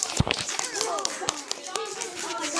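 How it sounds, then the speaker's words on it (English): A few people clap for the actors on a children's field trip, scattered sharp claps at an uneven rhythm mixed with children's voices and chatter, fairly faint and close. "Give a round of applause for our actors."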